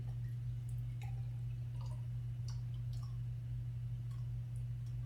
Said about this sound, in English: The next step is to fill the 50 milliliter tube graduated cylinder with water.